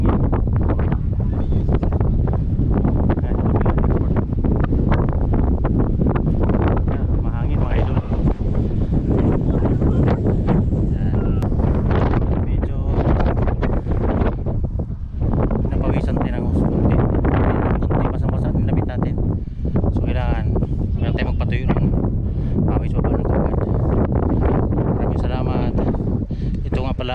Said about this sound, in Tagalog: Dito sa tuktok. Ayan, mahangin.